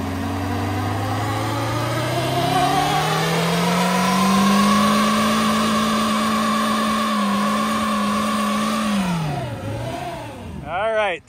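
A Toyota Yaris engine revs hard and holds high in a burnout, tires spinning with a loud, sustained roar before the revs drop and the engine winds down.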